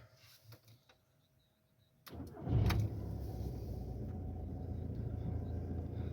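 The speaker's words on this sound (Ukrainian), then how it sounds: "Зараз я заведу автомобіль." A 2009 Volkswagen Touran 2.0 diesel with automatic gearbox is started: faint cabin sounds, then a brief starter crank and a loud catch, settling into a steady close diesel idle rumble.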